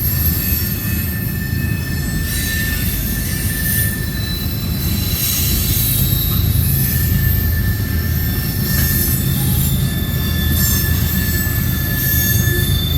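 A CN freight train rolls steadily past at Ladysmith, Wisconsin, with a rear DPU locomotive bringing up the end, loud and close throughout, with continuous wheel squeal and the deep rumble of the cars.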